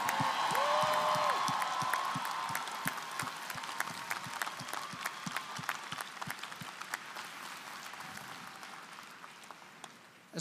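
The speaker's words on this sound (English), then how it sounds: "let's give another huge round of applause for all these amazing people" Audience applause at the 2019 FTC robotics World Championship awards ceremony in Houston: a broad crowd ovation that starts full and gradually thins into scattered, individual claps as it fades.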